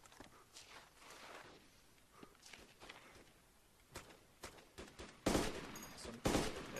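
Scattered gunfire in a military video game match on an airport map, short sharp shots and bursts popping irregularly over a busy background, growing louder and denser toward the end.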